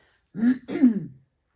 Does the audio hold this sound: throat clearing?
yes